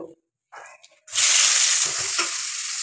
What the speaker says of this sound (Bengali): আগে পেঁয়াজ দিয়ে দেবো,